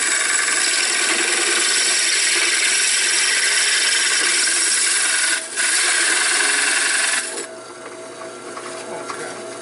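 Lathe on its slowest setting drilling a center hole into a workpiece, a continuous harsh grinding scrape with a brief dip partway and a drop to a lighter scratchy rasp near the end, close and alone.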